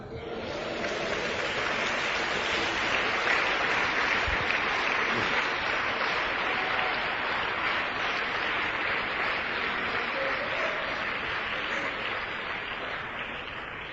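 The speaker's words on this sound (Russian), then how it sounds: "Дайте Богу аплодисменты." A church congregation applauds at a sermon, a dense, steady wash of clapping that lasts the whole stretch with no voices over it.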